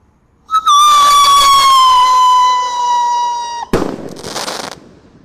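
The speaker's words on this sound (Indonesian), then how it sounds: "Nyumut mercon malam hari. Sudah menyala. Pyro Roketer Roman Candle warna merah." A red Pyro Roketer Roman Candle firework launches at night: a sharp whistling shriek that holds and slowly drops in pitch for about three seconds, then a sudden loud crackling burst that fades.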